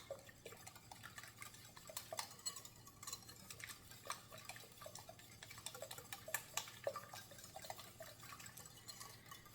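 Sugar and vanilla sugar mixed in a bowl for an easy heart cake recipe, a steady run of light, close scraping and ticking taps against the bowl, fairly quiet and continuous with no voices.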